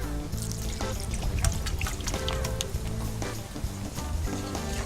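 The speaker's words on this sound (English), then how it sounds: "and then just a dash of almond milk or soy milk to thicken it up" A small dash of almond or soy milk trickles from a container into a thick batter coating, a soft, steady pour heard alone for a few seconds.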